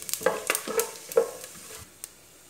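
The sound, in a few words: stirring food frying in a pot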